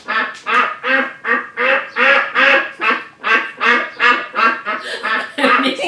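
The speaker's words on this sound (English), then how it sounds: "This is a daddy duck, and that's called a drake" A drake, the male duck, quacks in a steady run of about a dozen loud, close, evenly spaced calls that continue without pause.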